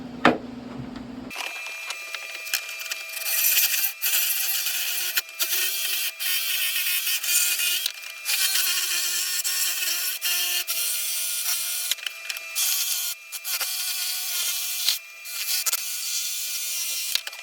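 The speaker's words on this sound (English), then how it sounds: "So now I'm going to take that jigsaw again and I'm going to cut out, not on the line, but close to the line." Jigsaw cutting a wooden board for a deer skull mount, a loud steady buzzing drone that starts after a brief quiet moment and runs nearly continuously with small dips in intensity.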